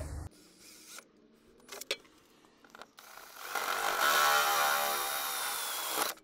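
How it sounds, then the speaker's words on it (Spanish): After a few faint mechanical clicks and creaks, a hole saw starts boring through the wall of a camper from the inside, giving a steady, loud whirring grind that runs to the end. "Y a continuación voy a hacer el agujero, lo voy a hacer de dentro hacia afuera."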